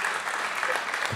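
An audience at a conference applauds the bishop of Nice, a brief, even burst of many hands clapping at moderate volume.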